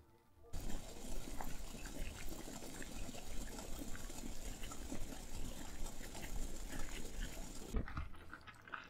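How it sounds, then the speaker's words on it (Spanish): A pot of salted water comes to a rolling boil for spaghetti, a steady bubbling, gushing roar that starts abruptly, stays even and close for several seconds, then cuts off near the end. "Aquí el agua ya está hirviendo"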